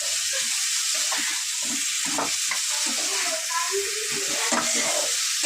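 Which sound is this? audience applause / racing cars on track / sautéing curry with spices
sautéing curry with spices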